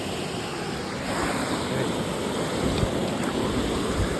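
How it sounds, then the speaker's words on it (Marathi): Strong river water rushing with heavy force, a steady broadband roar that swells slightly after the first second and continues unbroken, close and loud, with no voices. "पाण्याला फोर्स पण आज जास्त आहे"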